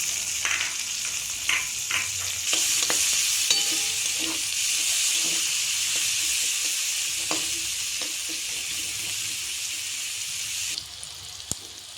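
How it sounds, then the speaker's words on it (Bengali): Vegetables with green chilli, onion and garlic frying in a pan for a Chinese-style chicken soup: a loud, continuous sizzle, close up, with scattered spatula clicks and scrapes from stirring and no talking. "সবজিগুলোকে ফ্রাই করে নেব। কাঁচা লঙ্কা দিলাম, পেঁয়াজ রসুন দিয়ে দিলাম"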